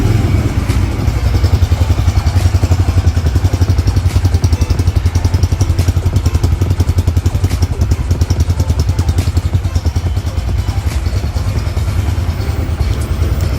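A Bajaj Freedom 125 CNG motorcycle engine idles close and loud with a rapid, even thumping rhythm, the throttle rising a little at times but never dropping off.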